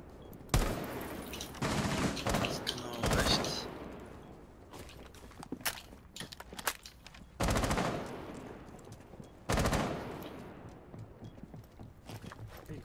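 Bursts of gunfire in Rainbow Six Siege, a gunfight with several loud volleys separated by quieter stretches, with no talking.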